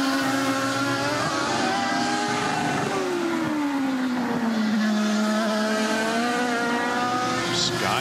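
IndyCar race cars at the 2009 Honda 200 scream past at speed, a loud sustained engine whine sliding down in pitch as cars pass, continuous for the whole stretch.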